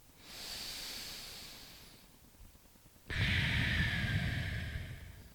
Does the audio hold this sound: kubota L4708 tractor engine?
no